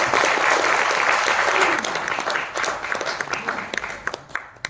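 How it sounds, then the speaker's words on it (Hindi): Audience applause breaks out at a motivational direct selling talk, loud and dense at first, then thinning into scattered claps that fade over a few seconds. "एक बार उसके लिए भी जोरदार तालियां हो जाए।"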